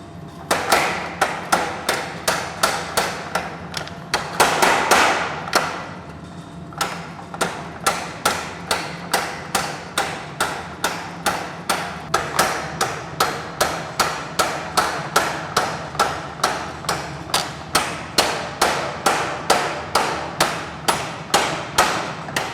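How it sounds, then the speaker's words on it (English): Hot steel knife blade hammered on a rusty anvil at a forge, a long run of sharp, ringing metallic strikes in steady rhythm, close and loud, with one short pause early on. "then I'll hammer it"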